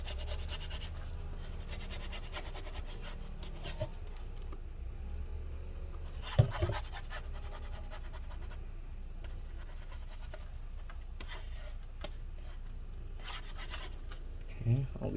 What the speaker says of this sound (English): Slowly scraping all this stuff up.